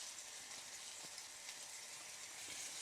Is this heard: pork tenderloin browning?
yes